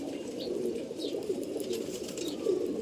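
A working-line racing pigeon in a Dhaka loft gives soft, throaty coos in short repeated bursts at close range, with no talking over them.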